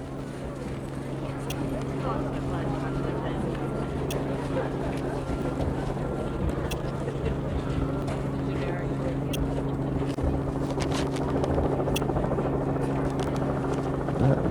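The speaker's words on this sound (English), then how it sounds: "we got the helicopter hovering above this game." Helicopter hovering above an outdoor high school hockey game, a steady low rotor drone with a droning hum running under ongoing commentary.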